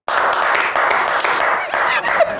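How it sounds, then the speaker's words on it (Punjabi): An audience applauds during a comedy show, dense continuous clapping at close range lasting the whole stretch, with slight swells and faint voices mixed in. "ਮਾਰ ਤਾੜੀ ਆ"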